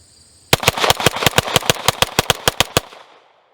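A Glock handgun fitted with a G Flex binary trigger fires a rapid string of about fifteen loud, evenly spaced shots in just over two seconds, each crack sharp and close, then the echo fades out.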